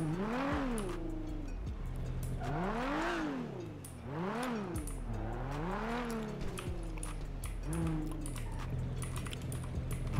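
A BMW M3 GTR in a video game revs repeatedly, its engine pitch climbing and falling in about five rising-and-dropping sweeps. The revs are close and prominent over roughly ten seconds.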